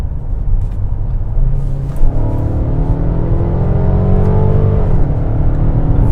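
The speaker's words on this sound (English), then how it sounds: "We can shift ourselves, so why don't we downshift?" A 2021 Mercedes-Benz GLA 250 4MATIC small SUV's engine rumbles steadily from inside the cabin, then revs up with rising pitch through a quick dual-clutch downshift, a brief bump, and a sharp drop near the end.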